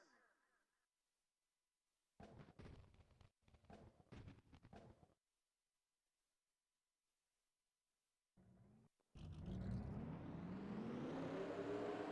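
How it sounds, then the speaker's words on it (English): Race car engines in a NASCAR-style racing video game fire up for a California 400 race, a loud chorus that swells and climbs in pitch after earlier short bursts of sound and a long silence. "Drivers, start your engines."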